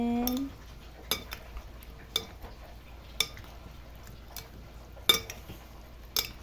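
Fried ginamos (fermented fish) stirred in a pan, with a utensil scraping and clinking against the metal in a roughly regular beat of sharp knocks about once a second over a quiet background.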